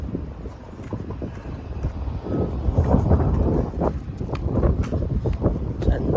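Gusty wind buffeting the microphone, rising and swelling in low rumbling bursts with a faint mechanical hum beneath.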